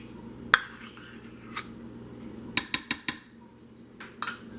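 A metal spoon clinks against the rim of an Instant Pot insert while sour cream is spooned into low-carb beef stroganoff on the saute setting, a sharp knock followed by a quick run of four taps and a few fainter clinks.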